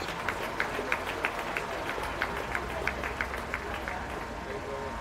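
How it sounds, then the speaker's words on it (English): A crowd at the Adams County Fair beef show claps for the Adams County Cattlemen, the sharp, fairly regular hand claps rising over a murmuring background for several seconds. "Let's give the Adams County Cattlemen a great round of applause for their support of this project"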